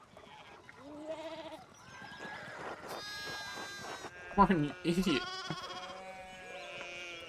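Sheep bleat repeatedly in the video game Pentiment, wavering cries scattered across the scene with a louder cluster in the middle, while voices talk over them.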